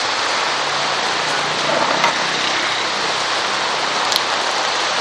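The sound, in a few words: rain falling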